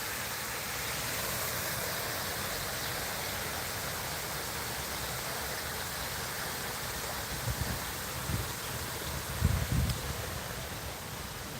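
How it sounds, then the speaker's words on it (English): Small decorative divider waterfalls beside a private pool area at a resort butler suite give a steady, soft, hissing rush of falling water, with a few low thumps near the end. "They even have these like little divider waterfalls."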